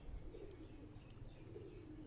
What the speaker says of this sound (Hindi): ये वाला कबूतर।